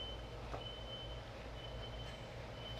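Reversing beeps from a truck backing up outdoors in a neighborhood, a faint steady high tone repeating over a low rumble of idling engine and street noise.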